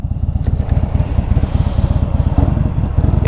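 A Harley-Davidson Dyna motorcycle engine runs close by with a steady, loud, low throbbing pulse that keeps going throughout, with no talking.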